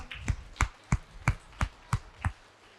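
A group at an anniversary gathering claps seven times in unison. The sharp, evenly spaced claps come about a third of a second apart and sound fairly faint, with no talk between them.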